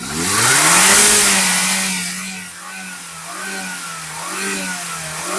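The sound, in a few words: 2010 Maruti WagonR car engine revving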